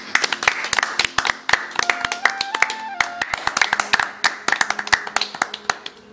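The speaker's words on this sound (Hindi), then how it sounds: "जोरदार तालियों से स्वागत की" An audience claps to welcome a poet onto a stage, sparse and irregular handclaps close by, with a few melodic tones and voices sounding faintly underneath.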